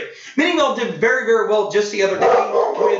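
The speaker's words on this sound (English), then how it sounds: "And that's my dog." A pet dog barks in the background while a teacher speaks steadily to a class; the yaps stay fairly faint and partly buried under the continuous voice.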